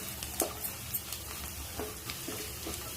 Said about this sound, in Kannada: ಈಗ ಸ್ವಲ್ಪ ಮಸಾಲೆನ ಬೇಯಬೇಕಲ್ಲ, ಹಾಗಾಗಿ ಮಿಕ್ಸ್ ಆದರೆ ಸಾಕು